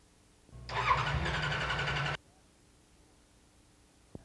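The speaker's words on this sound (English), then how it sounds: "The solenoid connects the battery directly to the starter motor, which turns to start the engine." A Kawasaki motorcycle's electric starter motor cranks steadily for about a second and a half, then cuts off abruptly, loud and close, followed by quiet.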